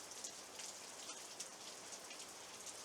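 Steady rain falling outdoors around a 250-year-old house under renovation, a soft continuous patter with scattered brighter drops, fairly close and even throughout, with no talking.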